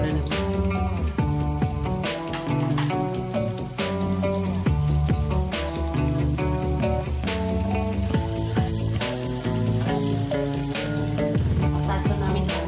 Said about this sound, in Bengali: ভালোভাবে আলুটা ফ্রাই করে নেব।